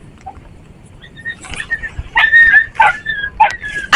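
At an outdoor market during heavy rain, a dog lets out a few close, short yips and whimpering barks after a quiet start, growing louder toward the end.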